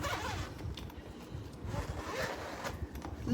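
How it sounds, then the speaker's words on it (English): A zipper is pulled open around a softshell spinner suitcase from a lightweight four-piece luggage set with TSA lock, a close, rasping run with short pauses and tugs, no talking. "I'm going to unzip"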